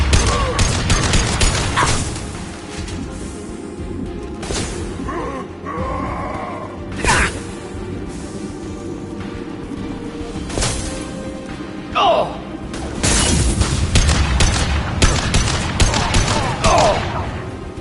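Combat gunfire in the video game Mass Effect 2: loud repeated shots and bursts with thuds and mechanical clatter over a constant game soundscape, continuing throughout with several sharp peaks.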